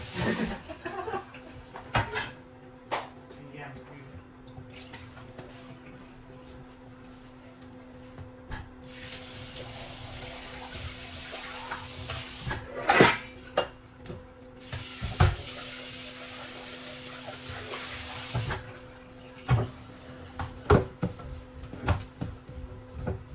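Water streams from a tap in bursts, splashing over dishes with occasional clinks and knocks, mostly quiet with louder running stretches.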